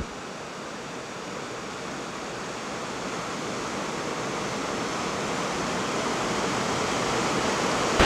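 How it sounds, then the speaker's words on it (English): A fairly shallow river runs over rocks in a steady, full rush of water, close and continuous, with no voices and a slight swell in loudness toward the end. "It's a fairly shallow river going over all these rocks."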